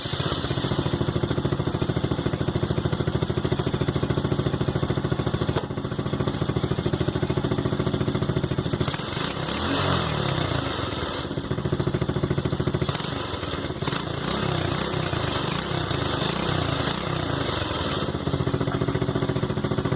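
A TaoTao 125cc ATV engine with its exhaust capped drones loudly and continuously, with a rough mid-range rumble and occasional shifts in tone, no voices present.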